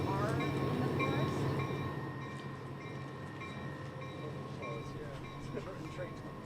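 A train rumbles past during an outdoor press conference, a steady rolling drone with rail clatter and a faint horn-like tone, while people speak over it.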